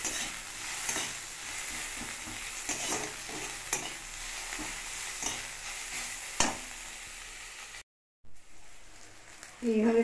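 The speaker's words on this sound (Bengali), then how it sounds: "পেঁয়াজটা একটু লাল করে ভেজে নিতে হবে।" Onions fry in a pan with a soft continuous sizzle and occasional stirring scrapes, fairly quiet, with a brief dropout near the end and a little talk.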